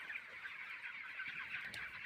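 Poultry chickens, white broilers with one black bird among them, cluck softly in a coop, a faint continuous murmur of overlapping calls with one sharper squawk near the end.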